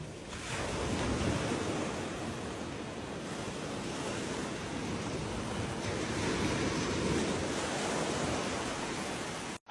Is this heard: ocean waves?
yes